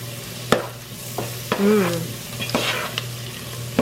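Sweet paprika is stirred into a sizzling chowder base in a pan, with a steady soft frying hiss and several sharp scrapes and clinks of the utensil at irregular intervals.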